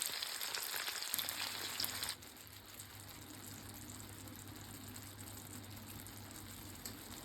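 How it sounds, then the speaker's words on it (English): Tomatoes stewing gently in buttery oil in a seasoned pan give off a steady soft sizzle. A louder hiss in the first two seconds settles to a quieter continuous bubbling. "they're just going to sit and gently stew in that buttery oil"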